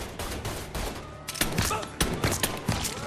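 Gunfire in the Mafia III video game, bursts of rapid shots and fusillades cracking loudly over a busy background, with several sharp volleys close together.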